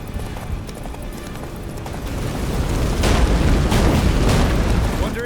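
Geralt's horse Roach gallops in The Witcher 3: Wild Hunt. Loud, rumbling hoofbeats pound steadily beneath heavy storm and battle noise, with booming surges growing stronger toward the end.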